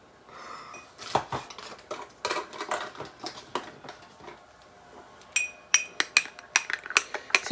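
A small spoon clinks against a glass of water while stirring in psyllium, soft scraping giving way to a quick run of sharp, close metallic taps near the end.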